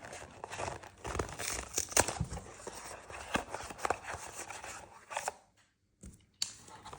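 Disney Lorcana starter deck packaging being opened and torn, close crinkling plastic and paper rips in busy bursts, then a few brief pauses near the end.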